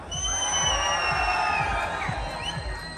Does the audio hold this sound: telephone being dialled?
no